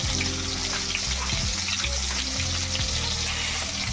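Stuffed brinjal dropped into hot oil, frying with a steady loud sizzle and constant crackling spatter close up, a continuous bubbling hiss with no voices.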